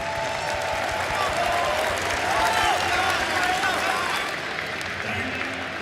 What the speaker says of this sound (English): Can we give a big round of applause for Xingqiu and Xtreme Gaming?